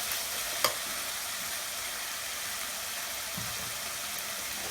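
Tomatoes sautéing in a pan for a dry fish gravy, a faint steady sizzle with a single light clink of a spoon early on, quiet and continuous without speech.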